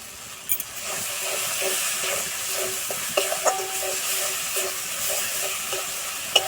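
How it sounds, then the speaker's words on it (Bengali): Spiced masala sautés in oil for aloo dum with peas, a steady close sizzle and hiss with scattered clinks and scrapes of a spoon stirring against the pan. "মশলা কষানো হয়ে গেছে মশলা থেকে তেল ছেড়ে গেছে"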